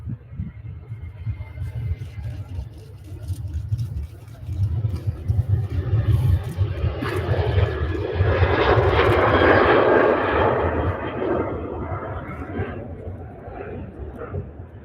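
A fixed-wing aircraft moves at Manchester Airport, its engine a steady low rumble that swells into a louder broad roar mid-clip and then eases, heard from nearby but out of sight, with people talking over it.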